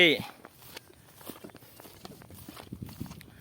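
Soft, irregular footsteps of someone walking outdoors, fairly quiet and uneven, with people talking over them.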